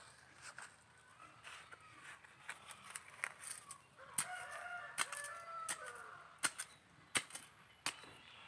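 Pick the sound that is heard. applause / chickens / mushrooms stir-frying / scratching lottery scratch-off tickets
chickens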